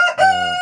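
A rooster crows once inside a chicken coop where hens are laying, with the coop kept at about +10°C. The single short crow is loud and close.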